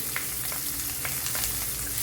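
Steady sizzling of onion, green chili and curry leaves frying in a hot pan, with faint stirring crackles, continuous and close, no voices.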